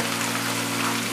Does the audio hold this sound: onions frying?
yes